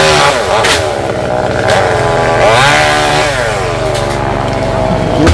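A chainsaw cuts coconut trees in a garden in Dong Nai, its engine snarling loudly and close, rising and falling in pitch as the blade bites and eases off.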